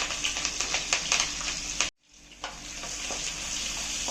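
Five shallots, a few garlic cloves and curry leaves sizzle in a pan for pepper kulambu, with a close crackling hiss and quick stirring clicks, a brief cut to silence midway, then the frying resumes.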